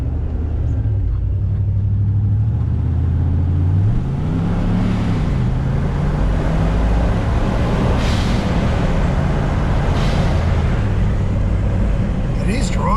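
An old car, being tuned, drives down a street with a loud, continuous engine drone and rumble that rises and falls in pitch as it changes speed, with road noise throughout.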